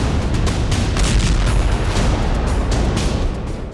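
A bomb planted on an Israeli Merkava tank detonates in a loud, booming blast, a dense roar of sustained rumble and debris that fills the whole moment before tailing off slightly at the end.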